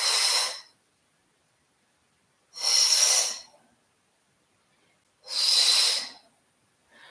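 Three strong, evenly spaced breaths during overhead tugs in a yoga session, each a loud airy exhale lasting under a second, separated by about two seconds of silence.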